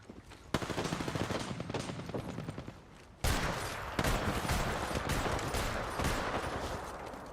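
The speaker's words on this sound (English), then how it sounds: "They spotted me. I'm taking shots." Video game battle royale gunfire from enemies shooting at the player, dense rapid automatic bursts that run almost continuously and loudly, with a brief pause before a second heavier stretch of firing.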